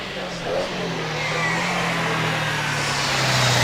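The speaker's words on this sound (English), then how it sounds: "As Rob Orford starts his run in the MGB Roadster" An MGB Roadster races up a hillclimb course at Prescott, its engine a steady, sustained drone rising slightly in pitch as it pulls away, heard at a distance with no talk over it.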